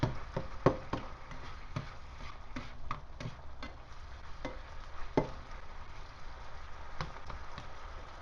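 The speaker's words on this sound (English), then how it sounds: "So let's mix all this up real good." Ground beef, bacon and egg for a frittata being stirred together in a bowl, a string of soft irregular scraping and clinking strokes, quiet and close with no speech.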